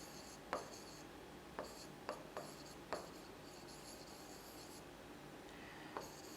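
Pen writing notes on paper during a Hindi maths lesson on profit and loss, heard as faint scratchy strokes with a few light taps, close and alone.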